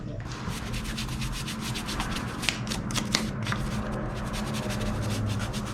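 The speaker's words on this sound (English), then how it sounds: "Let's get the brush on that and kind of just clean it up a little bit." A brush scrubs caked dirt and crud out of the starter cover recess on a 2016 KTM 300xcw dirt bike, a continuous close bristly rasping with quick back-and-forth strokes and no speech.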